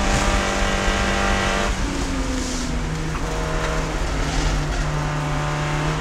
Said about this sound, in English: the fastest car on track is indeed the Audi of Chip Herr running in 6th